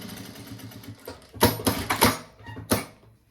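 A sewing machine stitching a small fabric organizer bag, with short bursts of whirring mechanical stitching and clacking that start and stop close by, no talking.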